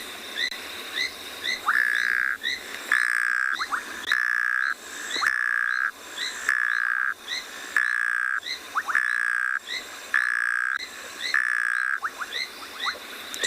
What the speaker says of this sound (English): So it sounds like a little froggy that's snoring.